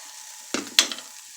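Ingredients for a BBQ chicken pizza cook in a pan with a quiet, low sizzle, broken by two sharp scraping stirs close together; no one speaks.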